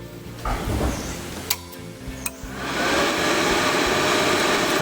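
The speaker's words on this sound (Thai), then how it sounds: "พัดลมเสียงนิ่มนะครับ ไม่ดังนะครับ" A couple of sharp clicks from a small VALU S400 welding machine are followed by its cooling fan spinning up into a steady, soft, whooshing whir that continues to the end, with no voices.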